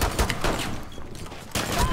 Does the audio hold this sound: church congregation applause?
no